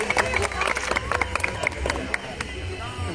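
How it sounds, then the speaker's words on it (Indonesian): Audience applause at an Indonesian village tourism award ceremony, a steady wash of clapping hands mixed with crowd murmur, filling the room evenly without a break. "Boleh sekali lagi berikan tepuk tangan yang meriah Bapak Ibu hadirin"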